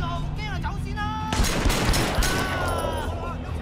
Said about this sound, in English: I think I grabbed his machine gun.